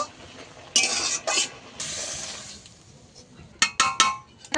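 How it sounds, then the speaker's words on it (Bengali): A spoon works turmeric powder into bottle gourd in a pan, with a few bursts of scraping and stirring and light clinks of metal against the pan. "হলুদ গুঁড়োটা দিয়ে ভালো করে মিশিয়ে নেব"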